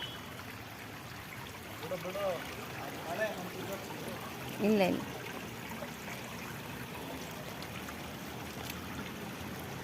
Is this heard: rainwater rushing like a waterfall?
yes